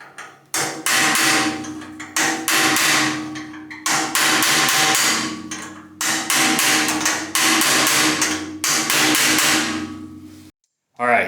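Repeated close, loud hammer blows drive a taper pin out of a 1953 Delta Unisaw table saw, falling in quick rhythmic bursts separated by brief pauses.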